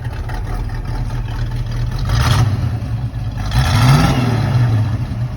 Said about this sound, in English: Bring in the back, let you hear the exhaust.